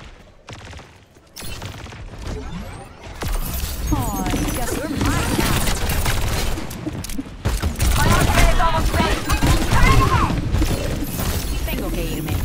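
Dense gunfire and explosions from the video game Overwatch 2 fill a busy, loud mix of rapid shots, booms and impacts, with game voices mixed in throughout.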